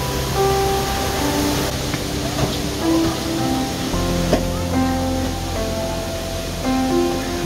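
Namaste waterfall near Bhedetar, Nepal, a steady, full roar of falling water that holds evenly throughout, with faint tonal music running beneath it.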